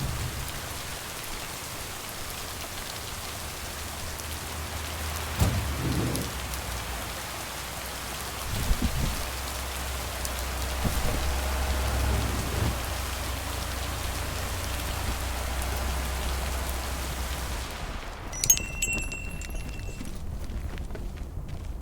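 Steady rain falls in the Xbox game Lake, a continuous soft patter with a few brief knocks and thumps, ending in a short run of faint electronic chimes.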